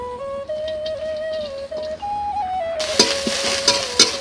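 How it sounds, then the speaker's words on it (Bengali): Chopped onions hit hot oil in a wok for a fish curry, bursting into a steady sizzle partway through with a few sharp crackles, while a soft tonal melody plays in the background. "আমি মাছের ঝাল রান্না করার জন্য প্রথমে কড়াতে পেঁয়াজ দিয়ে দিচ্ছি"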